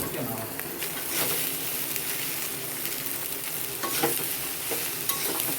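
Bottle gourd pieces being stirred in a hot pan, for cooking with prawns: steady sizzling with repeated scraping stirs of a utensil, close and moderately loud, with a faint voice now and then.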